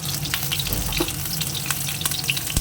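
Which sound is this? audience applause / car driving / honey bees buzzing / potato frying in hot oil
potato frying in hot oil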